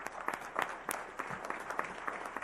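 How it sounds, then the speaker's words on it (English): A school district board meeting audience applauds with a burst of uneven, overlapping claps, moderately loud and a little distant in a large room, and no one speaks over it. "Please give everybody a round of applause"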